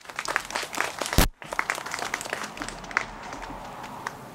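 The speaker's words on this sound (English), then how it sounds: "Now let's give them a round of applause." An audience claps steadily for several seconds, a crowd's applause that briefly cuts out and then resumes at an even level.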